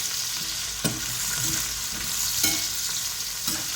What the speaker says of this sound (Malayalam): ഇത് നമുക്കെല്ലാം കൂടെ ഒന്ന് ഇളക്കണം